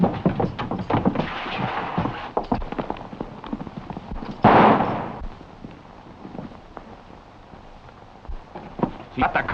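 Gunshots in a 1940 western film, a burst of sharp cracks around the middle standing out over dialogue and scuffling action noise, with more scattered bangs before and after.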